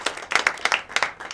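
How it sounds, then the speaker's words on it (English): Applause from a talk-show audience: rapid, fairly loud clapping in several uneven bursts, brief and without speech. "Give him a round of applause for that last thing."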